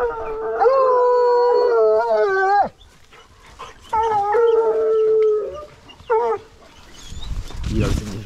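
A hunting dog howls during a wild boar hunt at the season opening: two long, wavering howls close by, then a short third cry, with rustling outdoor noise between them.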